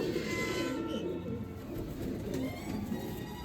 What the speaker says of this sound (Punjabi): ਜਾਲਦਾਰ ਕਬੂਤਰ ਭਾਜੀ ਜਾਲਦਾਰ ਨਸਲ ਜੇ